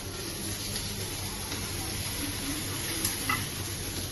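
Kebabs cook in butter on a hot pan, giving a soft, continuous sizzle and hiss with faint stirring, heard at a low level.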